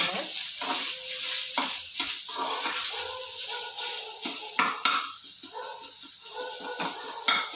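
Onions fry gently with salt in a pan over low heat, close by: a soft sizzle broken by scraping stirs and light clinks of a utensil.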